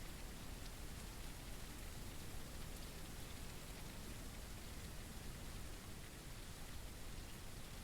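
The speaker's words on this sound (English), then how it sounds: "didn't it just start raining?" Rainfall in the online video game Virtual Towers Online, a faint, even wash of steady rain noise with no breaks or distinct drops, continuing alone throughout.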